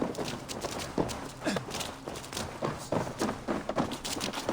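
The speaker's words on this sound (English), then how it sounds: "Basim, Eivor, to horse!" Horses gallop in the Assassin's Creed Valhalla video game, rhythmic hoof clops pounding at a steady running pace, moderately close and without talk over them.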